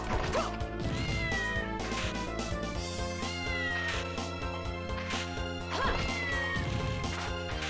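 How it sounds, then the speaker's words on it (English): Cat meows and caterwauling inside the game Castlevania: Order of Ecclesia play over continuous loud game music, with several crashing hits mixed in. "Oh, there's a cat."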